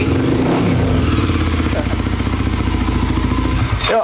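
A motorcycle engine runs loud and close for a few seconds, its deep throbbing rumble rising briefly near the end like a throttle blip.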